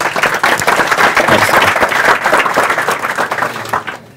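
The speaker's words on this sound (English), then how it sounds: "And so now I'll give a very warm round of applause for James to talk about serverless again." A conference audience applauds a speaker taking the stage at a tech event in Amsterdam, dense sustained clapping filling the room for about four seconds before tapering off at the end.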